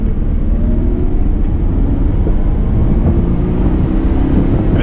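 A 1987 Jaguar XJ-S HE V12 Hess & Eisenhardt convertible pulls hard from a standstill toward 60, its V12 a loud, steady low rumble with rising engine tones and wind noise heard from inside the car.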